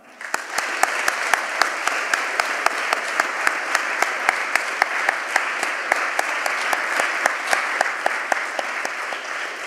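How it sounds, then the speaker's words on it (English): Loud sustained applause from a large crowd, dense steady clapping with a few sharper claps standing out, lasting the whole stretch. "Let's give a big round of applause to the U.S."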